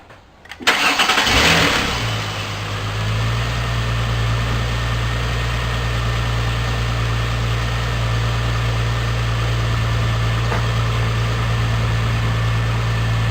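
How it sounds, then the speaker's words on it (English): A 2007 Ford Mustang engine cranks briefly and catches, then settles into a steady, even idle hum that runs on alone; the alternator is not charging the battery. "So we're gonna start the engine now"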